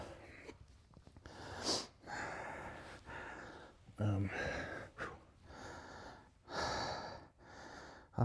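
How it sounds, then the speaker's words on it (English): Heavy, rhythmic breathing from a man during a tempo run and strength training, with close breaths, gasps and snorts into a covered microphone, coming in bursts over about eight seconds. "I hope I'm not breathing too heavy in this thing"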